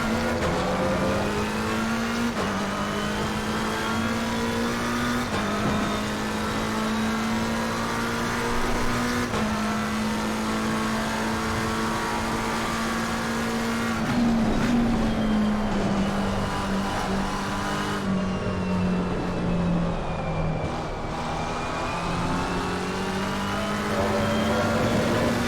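The engine of a McLaren 720S GT3 in a racing video game drones at high revs, with steady pitch that dips and climbs through gear changes and braking over a long continuous run.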